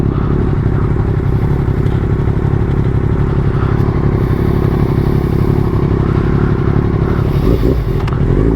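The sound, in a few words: motorcycle engine revving during night ride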